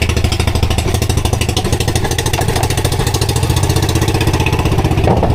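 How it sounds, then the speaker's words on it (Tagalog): A fishing boat's engine misfires as it runs, with a loud, steady rapid chugging pulse throughout and no voices over it. "Palyado pa yung makina natin, no?"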